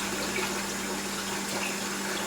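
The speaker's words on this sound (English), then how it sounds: "Sorry, my tap is going." Water from a kitchen tap runs in a steady, continuous stream throughout, close and moderately loud with an even hiss, while oatmeal is being prepared.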